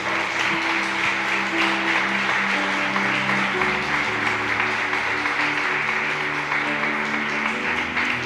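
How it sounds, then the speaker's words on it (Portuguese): A church congregation applauding, with steady, dense clapping from many people alongside tonal sounds like music or voices, continuing evenly throughout. "Aplauda o Senhor Jesus."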